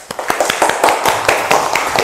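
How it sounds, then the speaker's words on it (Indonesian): A class claps hands together in a quick, uneven burst of sharp claps that continues steadily for a couple of seconds, close by. "Beri tepuk tangan dulu Jubaidah"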